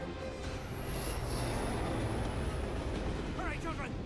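A train in an animated RWBY episode runs with a loud, steady rumble and a faint high whine, plus brief chirping sound effects near the end.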